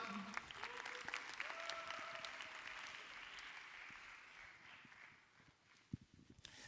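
Quiet clapping from a lecture audience at an academy session fades gradually as the talk closes, heard faintly and at a distance.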